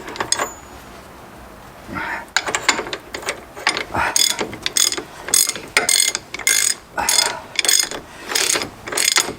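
Clicking of a 3/4 inch ratchet turning a socket on a Nissan Patrol steering part, starting with faint handling noise, then a close, steady run of ratchet strokes with rhythmic pawl clicks.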